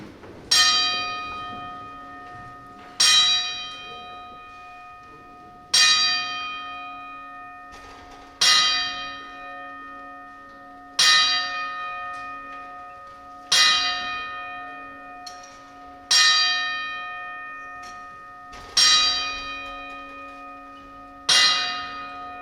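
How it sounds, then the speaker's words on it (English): A ceremonial ten-bell salute rings out at a boxing event, with single clear metallic bell strikes at a steady interval of about two and a half seconds, each ringing on and decaying, with no talk over them. "his passing now with a ceremonial 10-bell salute"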